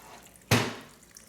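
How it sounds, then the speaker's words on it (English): Warm water splashes into a bowl of poolish sitting on a kitchen scale, a single sudden pour that hits loudly at once and then fades quickly. "just kind of pour it around the edges. We're going to add 500 grams of water"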